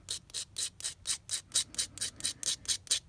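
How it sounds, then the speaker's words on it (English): A flat file rasps across a metal workpiece in about a dozen evenly spaced strokes, each a crisp, close scraping pass with brief pauses between, and no talking. "we're just wasting your time showing you me filing"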